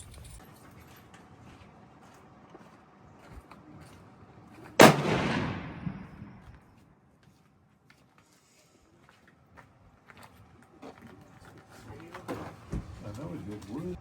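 A single loud rifle shot from a Christensen Evoke long action rifle cracks out close by, then its echo rolls away outdoors. Birds coo and voices talk faintly before and after.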